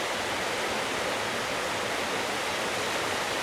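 River water rushing and swirling through rapids in the Verdon Gorge at low summer flow, a steady, dense roar of flowing water close by, with no voices.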